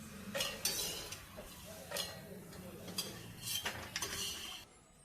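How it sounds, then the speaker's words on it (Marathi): Metal spoon scraping and clinking against a steel mixer jar as roasted food is transferred, several sharp knocks in an uneven rhythm, fairly quiet. "आता हे मिक्सरच्या भांड्यात काढून घेते।"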